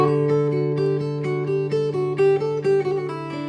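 Fingerstyle guitar plays a melodic phrase with a small trill-like embellishment, with crisp plucked notes repeating steadily over a sustained low bass note, close and clear with no talking.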